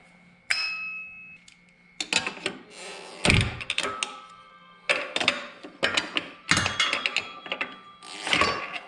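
Small bolt being worked loose on a Yamaha V Star 1100 motorcycle near the brake line, a series of close metallic clicks, ratcheting and clanks in irregular bursts with brief quiet gaps.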